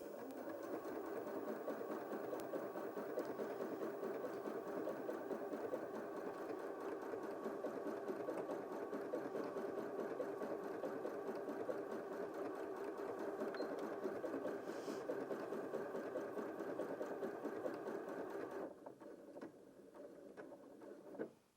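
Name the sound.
Janome M100QDC sewing machine stitching decorative tulip pattern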